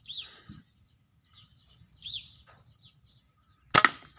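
A slingshot gun, tested before shipping, fires a single sharp, loud snap near the end, with soft bird chirps scattered through the quiet before it.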